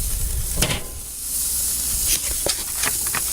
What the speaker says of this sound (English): What you are doing is you are searing the meat.